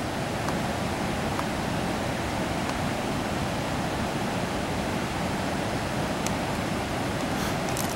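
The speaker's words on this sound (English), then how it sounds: "That's an old timey spillway." Water pours over an old dam spillway in a steady, broad rushing roar, constant and fairly near, with no voices over it.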